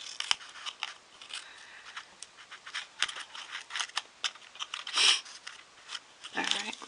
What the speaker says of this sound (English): now get your scissors out and snip off the corner